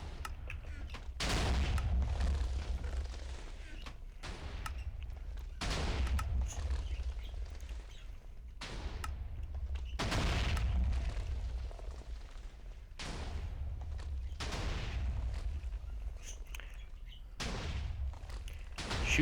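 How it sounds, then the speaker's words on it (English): A fully automatic TNT cluster cannon in Minecraft 1.5 fires repeatedly, giving about seven rumbling volleys of booming explosions at a steady rhythm, each burst lasting a second or two with short gaps between. "essentially it'll keep firing until you unflick the lever or until it runs out of TNT in these supply chests"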